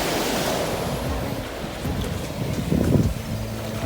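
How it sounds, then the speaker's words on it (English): Surf washing onto Frenchman's Beach at Treasure Beach, Jamaica, a steady broadband wash with light wind noise, swelling slightly louder near the end, with no voices. "We are walking Frenchman's Beach, which is like on the same beach as where Katamah is."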